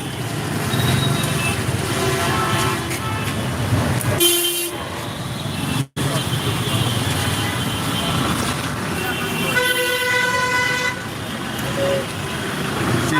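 Busy road traffic at the Mohakhali rail gate signal in Dhaka, a dense roar of engines with repeated horn toots and a sustained loud honk near the end, close and continuous.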